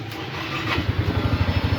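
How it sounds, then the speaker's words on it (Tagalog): A Yamaha Mio i125 scooter engine catches as the key is turned, settling into a close, steady, pulsing idle after a brief quiet lead-in. "O-on ko pa lang ito, mabubuhay na yung kanyang makina."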